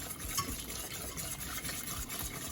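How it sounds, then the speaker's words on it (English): Milk is whisked gradually into a sauce for beef lasagne, giving a soft, continuous scraping and swishing in the pan at low volume with no voices. "and we just want to add it gradually. Whisking all the time."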